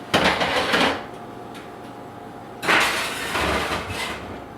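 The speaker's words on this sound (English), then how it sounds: "I'm going to put the lid on. And I'm just going to place it in the oven." A lid settles onto a pot of yogurt with a metallic clatter, then the pot is set into an oven with a second knock and a rattling slide, close and loud.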